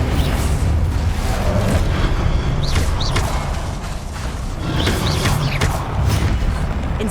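Repeated fiery spell blasts from the Hogwarts Legacy video game, loud and dense, with rushing bursts and crackling whooshes over a rumbling low game soundscape, no talking.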